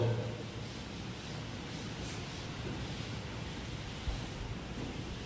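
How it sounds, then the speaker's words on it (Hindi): Wind blows outdoors in a steady, broadband rush with gentle swells and no voices. "हवा चल रही है, बढ़िया बात है, बढ़िया चल रही है ना, हवा बाहर है।"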